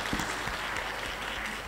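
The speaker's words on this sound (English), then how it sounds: "Can we give them a round of applause?" An audience at an innovation week opening ceremony applauds, a dense, even spread of clapping with occasional louder claps, continuing steadily throughout.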